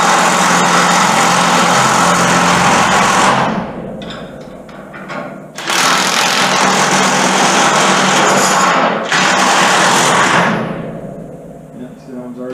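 Bursts from a DeWalt power tool driving nuts onto a Fisher XV2 snowplow shoe kit, three loud runs of a few seconds each with brief pauses between, close up.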